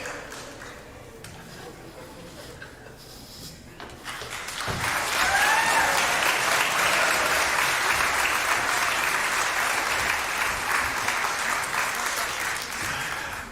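Audience applause at a live Americana show breaks out after a few quiet seconds, then holds as a dense, steady wash of clapping to the end.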